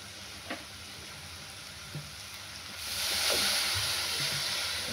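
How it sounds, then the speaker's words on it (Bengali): Spice paste with poppy seed paste, chilli, turmeric and coriander powder frying in a pan, with a faint steady sizzle and a couple of light stirring taps that swells into louder hissing toward the end, with no talk. "এই মশলাটাকে কষছি, পোস্ত বাটা দিয়েছি,"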